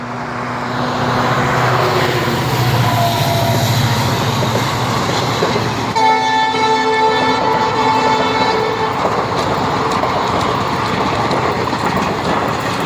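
A passing train rumbles steadily and loudly nearby, its horn sounding as sustained tonal blasts for several seconds midway, with continuous wheel and carriage noise throughout.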